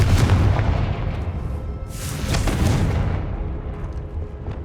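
A blasting curse explosion in Hogwarts Legacy bursts out as a loud, booming blast, followed a couple of seconds later by a second heavy detonation that rumbles and fades.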